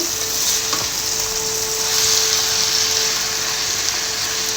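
Tomatoes fry with onions and spices in a pan for a bitter gourd (karela) dish, giving a constant close sizzle that swells slightly midway as the mixture is stirred, with no voices.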